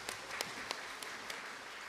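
Soft, sparse clapping from a church congregation, a few sharper individual claps standing out over a quiet, distant background.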